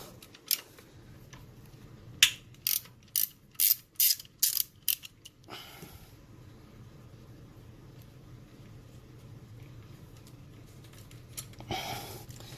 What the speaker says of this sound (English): I'm gonna start removing these 10mm bolts